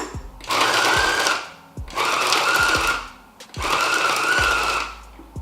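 Food processor pulsing cookie batter studded with chocolate chunks and pecans, three loud whirring bursts of about a second and a half each, separated by short pauses, close up with no talking.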